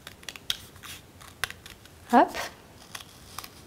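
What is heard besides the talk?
scissors cutting out paper lion ears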